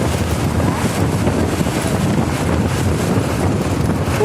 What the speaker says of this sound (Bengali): অনেক দ্রুত স্পিডে চলতেছে টানেলের ভিতরে